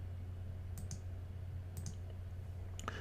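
A computer mouse clicks softly in close pairs, three quick double-clicks spaced about a second apart over a faint steady electrical hum.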